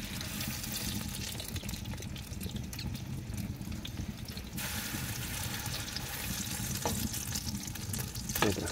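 Rain falls steadily on a tent at a spring campsite, giving a dense, continuous patter and hiss close by. A few sharper taps and rustles break through near the end.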